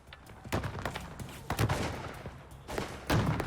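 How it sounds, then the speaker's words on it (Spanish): Gunfire exchange sound effect for a shootout between sheriff's deputies and kidnappers, several sharp reports in uneven bursts with echoing tails, mid-distance and moderately loud. "intercambiaron disparos con los secuestradores de Amy McNeil, de 13 años de edad."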